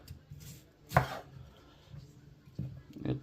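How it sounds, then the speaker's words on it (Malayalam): A knife chops through capsicum on a cutting board in a few separate strokes, one sharp loud cut followed by softer taps, close up in a quiet kitchen with no talking. "ഇനി നമുക്ക് ക്യാപ്സിക്കം ഒന്ന് കട്ട് ചെയ്തെടുക്കാം."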